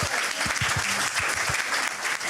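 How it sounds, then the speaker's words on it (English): An audience applauds the panel at the close of a founders event. The clapping is close, dense and even, with sharp individual claps standing out throughout. "Can we just give them a round of applause one more time?"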